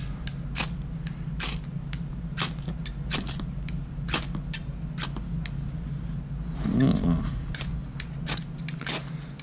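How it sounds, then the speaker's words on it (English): A Bear Grylls fire starter is struck again and again, giving a series of sharp, scraping rasps at an irregular rhythm over a steady low background hum, close and fairly crisp. "This Bear Grylls fire starter sends off a lot of sparks"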